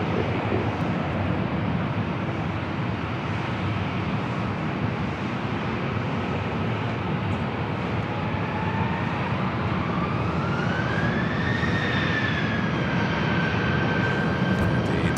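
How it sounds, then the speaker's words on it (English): A Delta Airbus A321 jet airliner flies near LAX toward runway 24 left, a loud, continuous engine roar with a whine that rises and bends upward toward the end. "The Delta A321 heading to Detroit, now heading over to 24 left."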